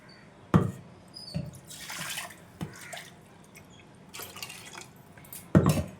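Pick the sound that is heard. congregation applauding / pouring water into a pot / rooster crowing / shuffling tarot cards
pouring water into a pot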